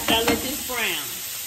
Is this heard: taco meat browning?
yes